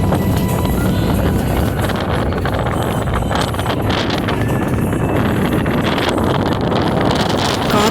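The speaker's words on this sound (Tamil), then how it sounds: "காற்று சத்தமும் நம்ம வண்டி போகிற சவுண்டும் கேட்கும்போது டிஃப்ரெண்ட்டாக இருக்குது" Strong wind roars steadily past a moving vehicle on the way to Palani Murugan temple, a dense broadband rush with engine and road noise underneath throughout, loud and continuous with no talking.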